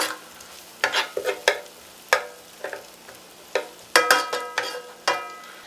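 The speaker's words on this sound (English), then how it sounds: "see how it's bubbling and sauteing here?" Vegetables sauté and bubble in a pan, with soft sizzling under a series of close, irregular scraping and clattering stirring strokes, each a sharp burst that quickly fades.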